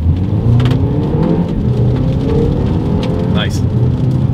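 A 2022 BMW X1 in sport mode accelerates hard on a wet road, its engine drone rising beneath a steady wash of rain and tyre spray, with a brief rising whine near the end.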